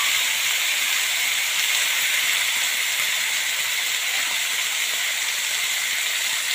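Eggplant pieces dropped into hot oil for a village-style Gujarati kadhi, producing a loud, continuous, even hiss of sizzling that holds steady from start to finish.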